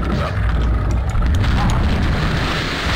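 A rocket launcher explosion in a video game, a heavy continuous boom with deep rumbling low end that stays loud and dense for the whole stretch, with faint crackles on top.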